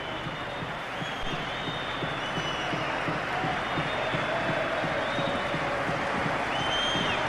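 A football stadium crowd at a UEFA Cup match between FC Porto and Partizan reacts to a substitution with steady applause and a few rising whistles, a broad continuous wash of clapping from a large distant crowd.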